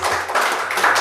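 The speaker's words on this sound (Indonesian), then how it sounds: "Tepuk tangan dulu dong." Audience at an Indonesian public dialogue forum applauding, a brief burst of dense, steady clapping from many hands with no voices over it.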